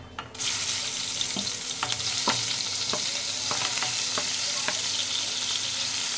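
Onion paste drops into hot oil with bay leaf, whole cumin and chopped chilli, setting off a sudden loud sizzle that keeps frying steadily while a spoon taps and scrapes the pan several times.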